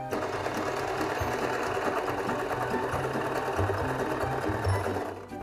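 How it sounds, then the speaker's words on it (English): A sewing machine runs steadily as it zigzag stitches two fabric edges together for an autumn patchwork, a fast rhythmic mechanical whirr and needle clatter, close and constant before stopping at the end. "I'm gonna go through and zigzag stitch both of those edges together as well,"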